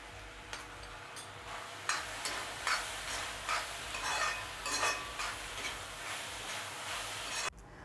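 Onions fry in a pan with a little salt for a Kerala-style chicken curry, sizzling softly at close range. A spoon scrapes and stirs through them in repeated strokes, with no talking.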